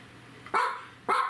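A dog barks twice in quick succession indoors in a home kitchen, short sharp barks, fairly close and loud.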